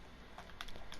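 Short burst of typing on a computer keyboard, entering coordinates in a Minecraft command: a few quick, light keystrokes clicking close by and fairly quiet, with no talking.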